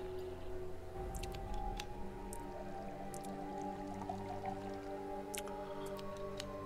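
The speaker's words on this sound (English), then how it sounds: "Oh, that's water." Water drips and trickles in the video game Desolate, scattered sharp drops falling irregularly over a low steady ambient hum, faint and without any voices.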